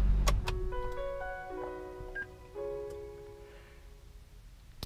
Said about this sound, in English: normally you start the car and there would be this little chime, this musical chime or whatever